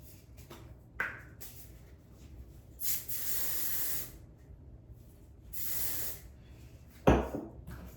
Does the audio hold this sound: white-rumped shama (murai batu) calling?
no